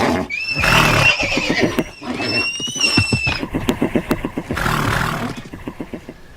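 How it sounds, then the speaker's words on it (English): Horses neigh and whinny loudly in a dramatized runaway-carriage scene in a radio play, with shrill cries over rumbling hoofbeats and commotion, one whinny returning near the end. "No, the horses cannot slow in time."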